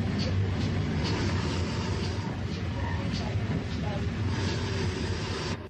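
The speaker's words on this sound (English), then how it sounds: "57XX Panier tank number 3621 arrives with the train from Neath" 57XX Pannier tank locomotive 3621 arrives with a train from Neath at a Welsh junction in 1962, giving a steady, loud rumble with clattering wheels throughout that drops away at the very end.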